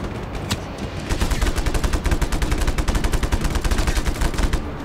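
Gunfire rattles from below in the action video game Just Cause 3, a loud, rapid machine-gun stream of dense bursts after a single opening shot, running almost without pause.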